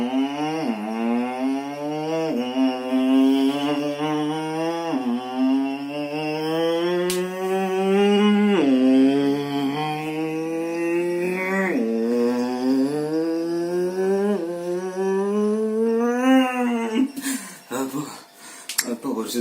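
A human voice mimics a motorbike starting up and speeding away, a sustained buzzing drone with repeated rising revs and gear-change swoops that fades into breathy noise at the end, loud and close.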